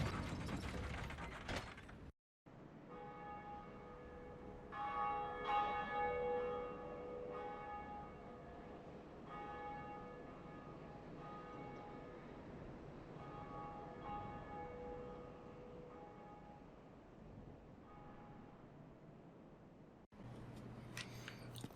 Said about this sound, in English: let's just climb this tower and finally ring this blooming bell